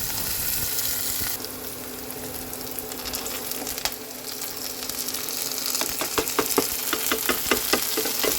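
Onions sizzle in a pan at close range, a steady frying hiss that grows busier toward the end with quick stirring clicks and scrapes, and nobody speaks.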